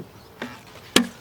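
A metal hive tool prying apart wooden beehive boxes, two sharp woody cracks a half second apart, the second louder, with a faint insect hum behind them.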